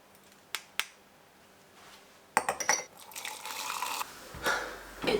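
Tea is being made: two sharp clinks of dishes, then running or pouring liquid with more clattering, close and moderately loud, with no talking.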